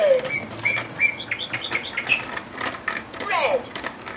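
Bright electronic chirps and tweets from a VTech Roly Poly Learning Tree toy repeat steadily throughout, close by, with a voice briefly mixed in.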